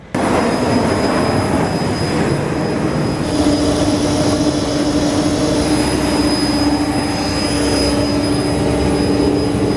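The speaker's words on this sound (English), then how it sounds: "But we probably see his plane taking off." A KLM jet airplane taking off, a loud steady roaring engine drone with sustained whining tones, constant throughout and heard from a distance.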